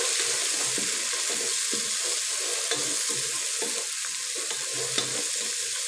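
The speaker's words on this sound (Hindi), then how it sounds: "इनको हम अच्छी तरह से भून लेंगे।" Coriander powder, salt and spices roasting in a hot pan for red lobia, a soft steady sizzle with faint stirring scrapes close by, no talk.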